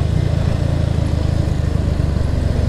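A Kawasaki W175 SE motorcycle idles through its exhaust with a deep, bassy burble, a close, loud, steady low thump that runs continuously without any talk.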